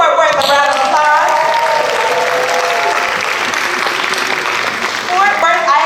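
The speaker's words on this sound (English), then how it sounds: "So everybody give Fort Worth a round of applause." Audience applause fills the room, a loud, continuous roar of clapping with a voice speaking over it at the start and end.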